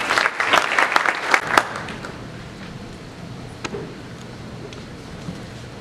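Conference audience applauding its speakers: a burst of close, fairly loud clapping that thins out within two seconds, leaving a few scattered claps and quiet room tone.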